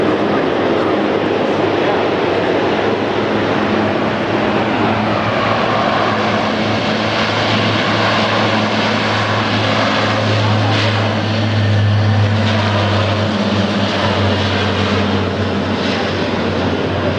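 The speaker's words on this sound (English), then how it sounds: "The aircraft that just took off was the Marine Corps Jack-of-all-trades," A Marine Corps KC-130 Hercules takes off at the 2008 Miramar Air Show, giving a loud, continuous propeller-driven roar that swells and holds steady for the whole stretch.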